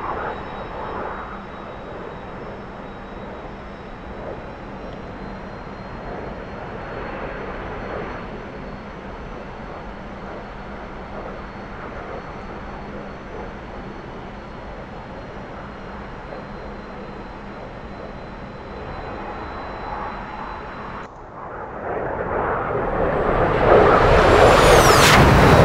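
Jet engine of a T-45 Goshawk trainer in the DCS flight simulator, a steady droning whine for a long stretch, then a sudden change to a rising, louder roar as the throttle comes up near the end.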